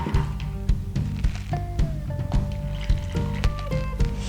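Soaked sprouting seeds drained of their water, with sloshing, squishing liquid sounds and repeated knocks and drips in an irregular rhythm, close up and with no talking.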